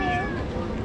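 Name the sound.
cat meowing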